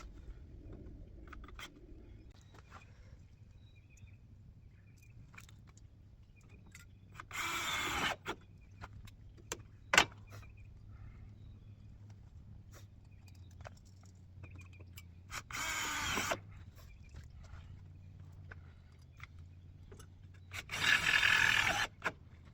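Three short bursts of a power drill driving large self-drilling, self-tapping screws whir in quiet surroundings, each lasting about a second or two, with light clicks and handling noises between them.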